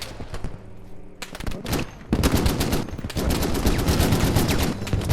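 Rapid bursts of gunfire in the game Squad, on the Al-Basrah map, crackle repeatedly, growing denser and louder after a brief lull, with sharp shots layered over a steady rumbling background.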